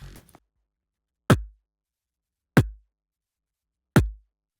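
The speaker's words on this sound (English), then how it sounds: "The two effects here produce a kick that sounds like this." Three punchy electronic kick drum hits from an RC-505 MKII loop station with two effects applied land about a second apart, each a sharp click falling into a deep, booming low thump, with silence between.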